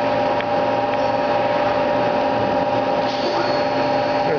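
A Mazak QT20 CNC lathe spindle runs steadily with a constant high whine and machine hum, close and loud, with a slight pitch shift near the end.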